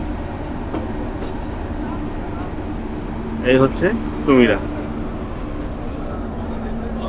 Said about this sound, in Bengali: আমাদের ট্রেন কিন্তু এখন বেশ রিল্যাক্সে যাচ্ছে